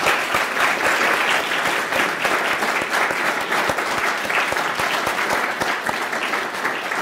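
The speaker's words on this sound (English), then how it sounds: "I think we'll give all of them a round of applause." A round of applause from an audience after a set of talks at a debt-advice Q&A session, continuous even clapping with a few sharper nearby claps standing out throughout.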